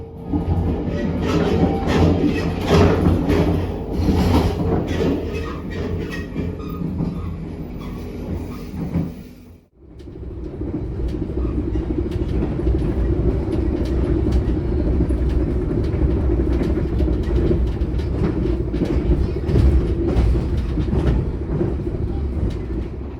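An Indonesian passenger train heading to Cirebon rolls steadily along the rails with a continuous rumble and faint rhythmic clatter, briefly dipping quiet midway before the running noise resumes.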